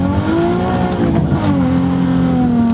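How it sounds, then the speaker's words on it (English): A Nissan 350Z engine revs loud and high, its pitch sweeping up and settling into a sustained, strained whine. "Oh, it revs so high, it's awesome."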